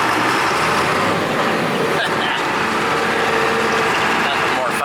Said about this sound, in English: This little tractor likes to smoke some.